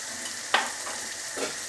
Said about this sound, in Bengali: আর একটু ভালো করে কষিয়ে নেব টমেটোটা